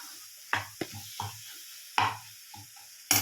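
Masala with turmeric sautéing in a pan for karamani kuzhambu, with a soft sizzle under repeated scrapes and stirs of a spoon, several distinct strokes spaced across a few seconds, close and fairly quiet.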